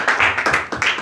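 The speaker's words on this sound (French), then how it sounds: "On t'applaudit quand même" A few people clap briefly in a small business gathering, a short run of about five or six distinct, close, loud claps in an uneven rhythm.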